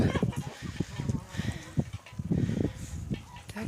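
Domestic ducks quack and honk in a busy, overlapping flock close by, with soft background noise.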